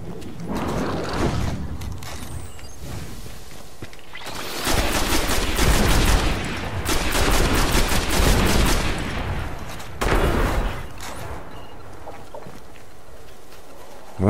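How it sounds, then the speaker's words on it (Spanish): Gunfire in the video game Destiny, bursts of rapid shots coming in dense, loud stretches with short gaps between them, mixed with other game sounds and no talking. "Ya me están pegando tiros."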